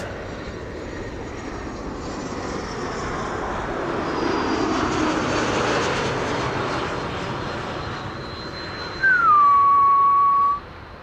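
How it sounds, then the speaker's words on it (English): A brand-new airliner arriving at Amsterdam Schiphol Airport roars as it passes, swelling to a broad jet rumble and fading, with a thin rising whine toward the end, heard from a distance outdoors. "It's a brand new airplane."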